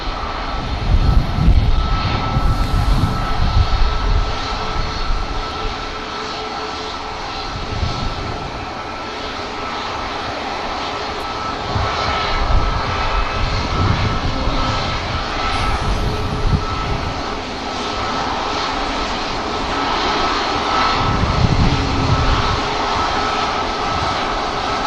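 A Ryanair jet airliner departing Manchester Airport gives a sustained engine roar with a steady whine, rumbling louder in surges and holding at a fairly close distance throughout, with no voices.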